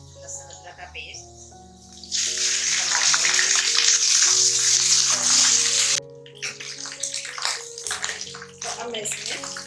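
Water is poured into a pan of browned onions, garlic-ginger paste and spices for aloo methi sabzi, a loud gushing rush lasting a few seconds and followed by lighter splashing, with someone talking before and after.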